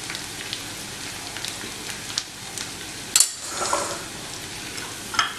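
Golden-brown onions fry with turmeric and salt in a pan, a steady crackling sizzle marked by a few sharper stirring scrapes and clinks, close and moderate in level, with no talking.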